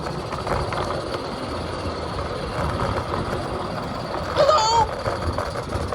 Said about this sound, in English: Listen to the slack come out of those chains.